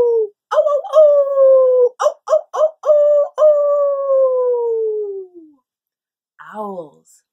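A voice imitates coyotes howling at night: several long, wavering, falling howls broken by short yips, then a brief burst of quick, yelping calls, loud and close with silence between.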